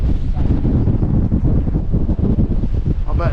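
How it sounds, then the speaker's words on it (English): Strong wind roars and buffets the microphone without a break near Darwen Tower, a loud, rough rush of air with no voices. "Oh, really windy."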